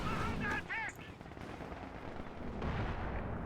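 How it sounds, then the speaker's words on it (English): A rocket artillery barrage in a real-time strategy video game booms as heavy rumbling blasts with a roaring rush of rockets, loud at first, then a continuing low rumble. "the rocket artillery barrage aiming for the Pack 40"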